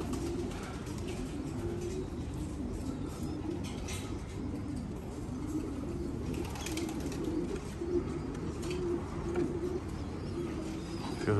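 Pigeons kept by a pigeon fancier cooing steadily over a dense, constant outdoor background hiss, with low soft coos and occasional faint chirps throughout.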